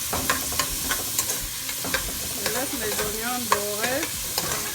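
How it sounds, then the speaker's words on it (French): Onions frying in a pan until golden, for a Cameroonian lobster and shrimp dish, with a steady close sizzle and repeated stirring scrapes throughout; faint tonal voice-like sounds drift in the background. "laisse mes oignons dorés"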